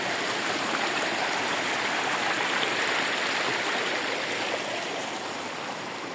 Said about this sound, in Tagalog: May portion doon na pinakamalaking source ng pinanggalingan ng tubig.